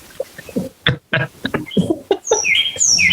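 Birds chirp in the background, with high, bright calls that become clearer and more frequent toward the end after a few scattered nearer sounds.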